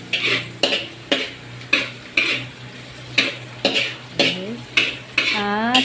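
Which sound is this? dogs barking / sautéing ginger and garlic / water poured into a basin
sautéing ginger and garlic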